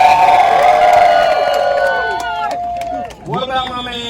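A crowd cheers and whoops loudly to vote for a contestant, with sustained high shouts that fade, then a fresh burst of cheering near the end, close and loud.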